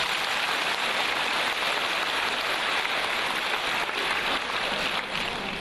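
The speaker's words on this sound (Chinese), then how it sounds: "鼓掌。" Sustained applause from a large audience, dense and steady from start to finish with no voices rising above it.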